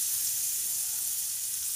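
Ground spice paste fries in hot cooking oil, giving a steady, even sizzle and hiss that carries on without a break and without any voices.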